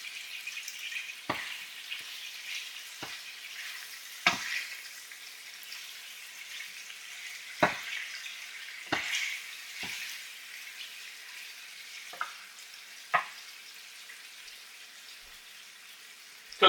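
Scrambled eggs frying in a pan, a soft steady sizzle with scattered sharp crackles and pops, close and quiet, no talking.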